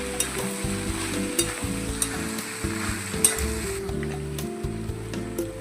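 Okra thecha frying and sizzling in a pan while being stirred, with steady crackling and repeated scraping strokes of the spoon across the pan, close and continuous with no talking.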